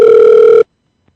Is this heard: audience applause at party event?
no